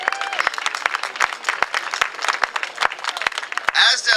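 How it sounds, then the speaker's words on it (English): Crowd applause at a Los Angeles transit milestone celebration in the Miracle Mile: dense, brisk clapping from many hands over about four seconds, with some faint voices mixed in. "Give yourselves a round of applause."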